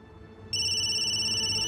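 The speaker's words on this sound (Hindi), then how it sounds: "किसका फोन है?" A phone starts ringing partway through, a steady electronic ring tone that comes in abruptly after a low room murmur and keeps going, close and fairly loud.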